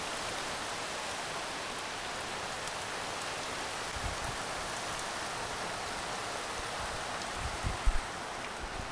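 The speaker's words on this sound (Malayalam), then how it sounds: "പുറത്ത് നല്ല മഴയാണ്" Heavy rain falls steadily outdoors in Kerala, a dense, even wash of noise with no voices, broken near the end by a few louder close drips or taps.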